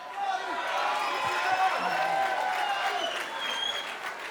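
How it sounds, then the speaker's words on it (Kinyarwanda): An audience applauds to welcome the comedian Muhinde, producing a sustained, dense clapping roar that holds steady from start to finish, with a bright crowd texture and no clear voices over it. "amashyi menshi cyane twakire Muhinde"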